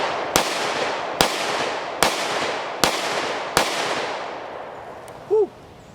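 A Smith & Wesson M&P 2.0 Performance Center 10mm pistol firing five loud, sharp shots at a steady rhythm about a second apart, each trailing into a long reverberant decay, followed by a brief tonal beep.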